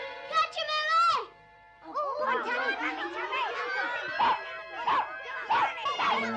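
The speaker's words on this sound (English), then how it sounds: "How did that dog get in here?" A small terrier yips and barks repeatedly in a Scottish kirkyard scene from a 1961 Disney drama, sharp excited barks mixed with children's excited chatter and shouting throughout.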